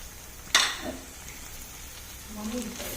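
Chopped onions with turmeric fry in a pan with a soft, steady sizzle, punctuated near the start by one sharp clatter of a utensil and a faint scrape later on.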